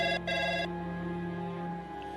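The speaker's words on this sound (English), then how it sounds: "and the phone starts ringing" A telephone rings loudly and alone, a sustained electronic bell tone with a brief gap near the start, then continuing steadily before fading out.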